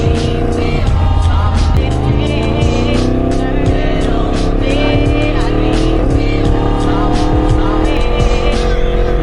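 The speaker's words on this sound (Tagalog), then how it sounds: "Abay, nagkakadit-kadit yung motor ko" A motorcycle on a night ride through Dubai and Abu Dhabi hums loudly and close, its engine note rising and wavering unevenly as if sputtering, with traffic around and someone talking over it.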